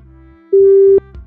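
A single steady phone busy tone sounds right after a call is hung up, loud and clear for about half a second, with quieter voice sounds before and after it.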